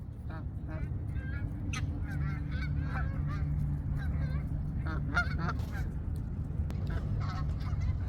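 A flock of geese honk by a lakeside, with many overlapping calls repeating at close and middle distance over a steady low rumble of wind and outdoor noise.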